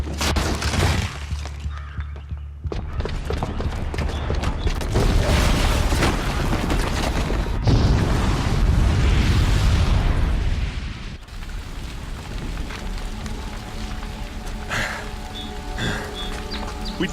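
A bomb explosion in Horizon Zero Dawn, a loud sustained roaring blast with shattering debris and rumbling that continues for several seconds before settling into lower crackling and falling rubble.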